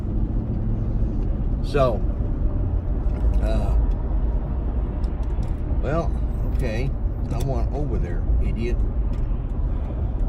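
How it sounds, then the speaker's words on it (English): Steady road traffic rumbles through the background on a cold, drizzly day, with passing cars swelling and fading under continuous close-up talking. "Traffic."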